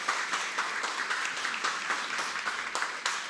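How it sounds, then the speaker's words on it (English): Audience applause after a media Q&A session at an AirAsia X airline event, steady moderate clapping from a crowd of press guests continuing for a few seconds. "Please give them a big round of applause for braving the questions."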